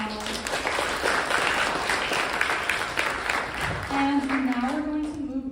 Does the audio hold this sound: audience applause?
yes